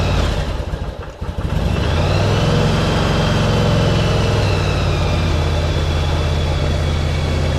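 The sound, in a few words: motorcycle engine starting and idling with choke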